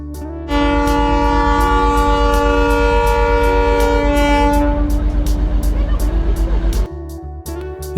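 Darjeeling toy train at Batasia Loop: a loud, sustained multi-tone horn blares for about six seconds over the low rumble of the rolling train, then cuts off, leaving quieter running noise.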